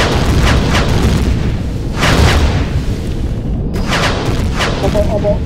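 Repeated gunfire and heavy explosions in the sci-fi survival game Empyrion Galactic Survival: loud booming blasts with bursts of shots at around two seconds and again near four seconds, over a constant rumbling din.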